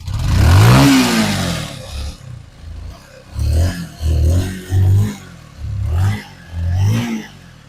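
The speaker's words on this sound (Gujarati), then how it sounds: "આ ગાડી સ્લોમાં છે અત્યારે અને રેસ આપીને પણ તમને બતાવી દઉં" A second-hand motorcycle engine is revved close by in a series of about five short throttle blips after an initial rising rev, each one a loud rough burst that quickly falls back to idle.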